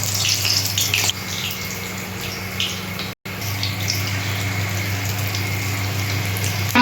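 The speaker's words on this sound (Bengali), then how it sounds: "তেল গরম হয়ে গেছে, আমি এবার বেগনিটা ছেড়ে দিচ্ছি।" Battered bakful flower fritters drop into hot frying oil, giving a constant close sizzling hiss over a low hum, with a brief break partway through.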